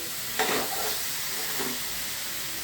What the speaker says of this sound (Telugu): బంగాళదుంప బాగా వేగాల